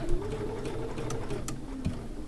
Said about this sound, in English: once again, I'm sewing on my Bernina 790 Plus